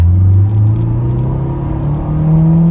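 A rusty 90s JDM car with a VTEC engine drifts, its engine droning in a loud, steady low rumble as the pitch slowly climbs, close and alone without talk.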